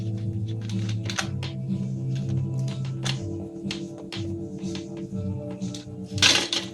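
Screws being unscrewed from a Nerf Maverick Rev 6 blaster, a close series of small irregular clicks and plastic ticks with a louder rattling scrape near the end, over a faint steady hum.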